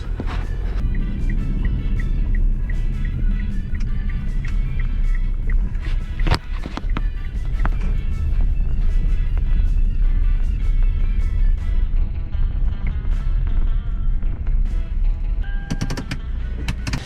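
Interior drone of a Kia 1.7 diesel car on the move, a continuous low engine and road rumble with rattles and knocks scattered throughout, fairly loud and steady.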